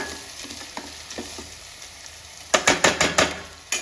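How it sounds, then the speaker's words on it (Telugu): Spice paste with turmeric frying in oil in a pan gives a steady soft sizzle, then a close run of sharp rhythmic scraping stirs near the end. "కొంచెం పచ్చివాసన పై నూనె పైకి వచ్చేంత వరకు ఫ్రై చేసుకోవాలి"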